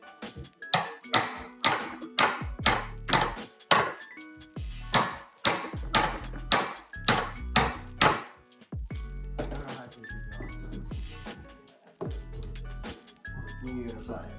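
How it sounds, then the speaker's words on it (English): A good old-fashioned hammer strikes a hood part on a C6 Corvette, landing as a run of loud, sharp metallic blows in a quick rhythm, close by, with a few scattered lighter taps near the end. "I'm gonna hit it with a good old fashioned hammer"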